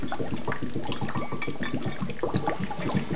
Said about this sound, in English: it's bubbling pretty good, as you can see.